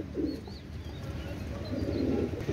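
A pair of Pakistani golden pigeons cooing, two low soft coos close by over a quiet background hum.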